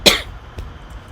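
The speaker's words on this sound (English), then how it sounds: "I just left my coughing in there" A single sharp cough near the start, close and fairly loud, followed by a faint softer throat sound and quiet room tone.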